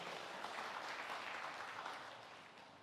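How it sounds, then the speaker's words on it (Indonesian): Church congregation applauding at a sermon's close, a dense, steady wash of clapping from many hands that holds loud throughout and eases slightly toward the end. "Berikan tepuk tangan yang meriah."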